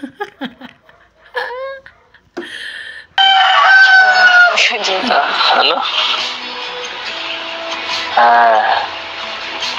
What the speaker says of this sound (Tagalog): Oo, sabi ng manok.